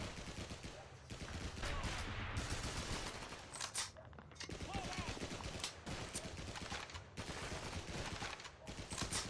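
Sustained gunfire from a World War II shooter game mission, rapid bursts and single shots close and loud throughout, with brief lulls and players talking over the action.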